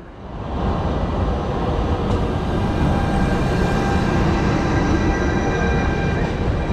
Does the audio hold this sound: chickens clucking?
no